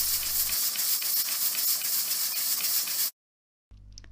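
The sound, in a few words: pressure cooker releasing steam while cooking carrots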